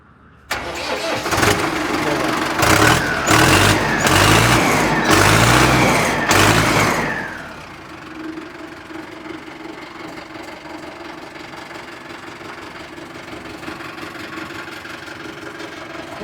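A Sonalika or Swaraj 855 tractor diesel engine cranks and catches with a loud, roughly pulsing roar for several seconds, then drops to a steady, quieter idle hum that continues to the end.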